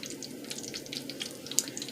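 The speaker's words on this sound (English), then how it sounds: "It's frying up nice." Stuffed potato balls fry in hot oil over a medium-high flame, making a steady, close hiss with dense crackling and occasional sharper pops.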